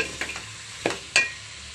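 Bottle gourd and potato stir-fried with a spatula, with a few short scraping strokes against the pan over a faint sizzle, close and brief.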